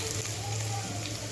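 Onions with a little ginger-garlic paste sautéing in a pan, giving a steady, even sizzle with a low hum beneath it that holds at the same level throughout, fairly close and with no voice over it.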